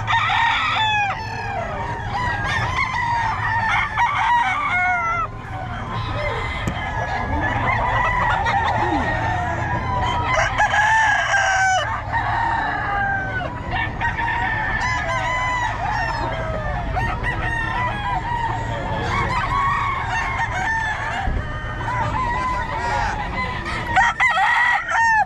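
Roosters and stags for sale at a poultry seller crow repeatedly while chickens cluck, a busy overlapping chorus of nearby and distant calls over a constant low background hum.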